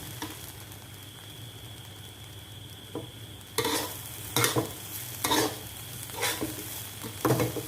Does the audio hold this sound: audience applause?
no